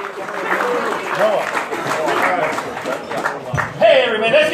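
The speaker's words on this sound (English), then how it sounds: "Let's give a nice round of applause to Bill Kalmason." A comedy club audience applauds with steady clapping, mixed with scattered cheers and voices that swell louder near the end.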